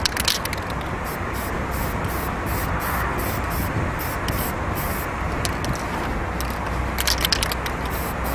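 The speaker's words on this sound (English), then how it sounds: "So we're going to do the same thing with the white. Just get a couple nice even layers going in there." White polycarbonate spray paint hisses from an aerosol can onto a body shell in short, repeated bursts, with a steady close spray sound and brief gaps between passes.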